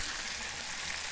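Korean fried chicken crackles steadily in hot oil during its second fry, a dense, even hiss of bubbling that stays close and constant throughout with no voices.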